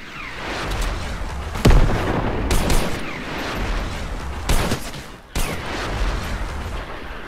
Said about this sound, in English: Love that rocket launcher.